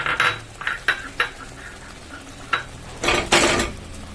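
Cabbage cooks in a pan with roasted mung dal and peanuts, stirred by a spoon that scrapes and clinks in short irregular strokes over a faint sizzle, with a quicker burst of scraping near the end.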